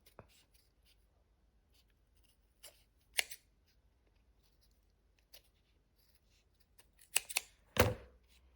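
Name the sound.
cutting with scissors while making a craft gnome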